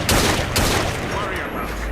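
Gunfire in Assassin's Creed Syndicate, a burst of several close shots and booms with a busy, loud game soundscape around them.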